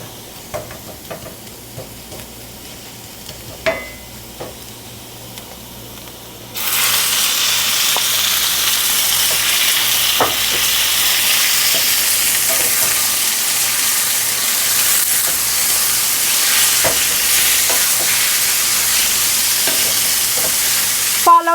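Beef liver hits a hot pan with ginger, and a loud steady sizzle bursts in partway through after quiet clinks, then holds as a continuous frying hiss with occasional stirring taps.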